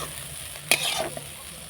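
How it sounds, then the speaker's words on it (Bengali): Shrimp lightly frying in oil in a karahi, a soft steady sizzle with one brief louder hiss and stir partway through, close and fairly quiet. "এবার আমি চিংড়ি মাছগুলো একটু হালকা করে ভেজে নেব।"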